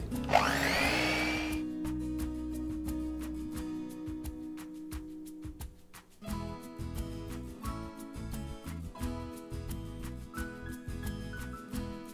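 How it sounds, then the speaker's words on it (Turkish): An electric mixer whisks eggs and sugar for a cake, a continuous close motor whine with a steady buzzing drone that shifts pitch partway through and keeps running with rattling, uneven texture. "Mikserle 5-10 dakika arası çırpmam gerekiyor"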